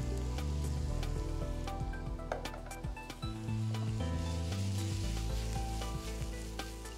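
Sliced mushrooms and onion sautéing in a pan, with a steady close sizzle and frying crackle, plus occasional stirring and clinks and a faint musical tone running underneath.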